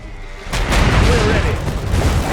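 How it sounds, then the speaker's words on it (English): Gunfire and explosions in the mech strategy game Iron Harvest break in suddenly after a quiet moment, a loud booming blast followed by rumbling fire and rattling shots, with game voices mixed in. "Taking enemy fire!"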